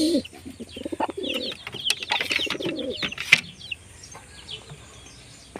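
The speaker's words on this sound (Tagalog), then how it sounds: "Dinig ko na mga kalapatids." Pigeons cooing outdoors, a cluster of close, throaty coos and soft calls in the first few seconds, then thinner chirps and distant bird calls over quiet background, with no talk.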